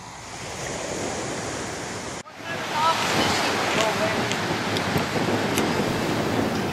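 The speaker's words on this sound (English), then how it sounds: "It's amazing how loud those waves sound in the background." Loud ocean waves along a Nova Scotia shoreline form a continuous roaring wash, briefly cut off before resuming strongly, with heavy wind noise on the microphone.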